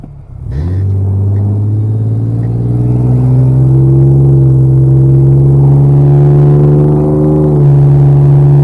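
A Ford Sport Trac pickup truck pulls away and drives on, its engine a loud, close, steady rumble that rises gradually in pitch as it accelerates, then holds at cruising speed with no voices.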